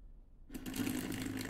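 An Airfix 14xx model locomotive's small motor starts after a brief silence and crawls slowly along the track, a soft, close whirring buzz with faint rattling clicks from uneven wheel contact.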